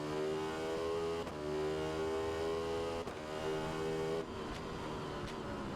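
Simulated motorbike engine droning at high, steady revs on the Zolder circuit in the RiMS Racing game, with a few abrupt pitch drops as gears shift, loud and continuous with no talk.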